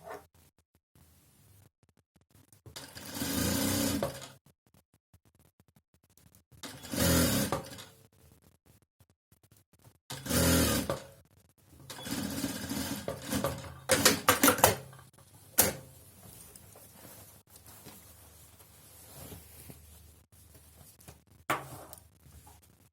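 A sewing machine stitches knit sleeve-cuff ribbing onto a garment, easing the rib as it goes, in several separate bursts of rapid mechanical whirring with quiet pauses between runs.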